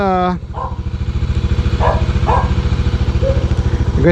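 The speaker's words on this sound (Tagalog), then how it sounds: "pag naka-side stand, ayan, umaandar itong makina" A Kawasaki Bajaj Dominar 400 UG motorcycle engine idles steadily nearby on its side stand with a low, even chugging pulse while someone talks over it.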